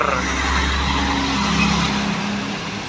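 Harapan Indah sleeper bus passing close by at night, a loud, steady roar of engine and tires that fades slightly near the end, with no talk.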